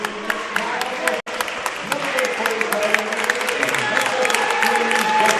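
A crowd at a high school basketball playoff semifinal applauds the seniors. Steady, loud clapping and cheering fill the gym throughout, with a voice speaking over it.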